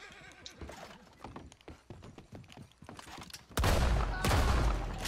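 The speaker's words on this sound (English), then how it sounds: "Shotgun." Shotgun blasts in the Western video game Red Dead Online, heavy booming bursts in the second half after a stretch of horse whinnies and hoof clip-clops in a bayou setting.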